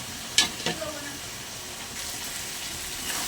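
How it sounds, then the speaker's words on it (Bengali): Fried prawns go into a pan of sautéing masala for a banana-flower ghonto: a few sharp clinks and scrapes at the start, then a quiet, steady sizzle and stirring with no voices. "এবার দিয়ে দেবো ভেজে রাখা চিংড়ি মাছ।"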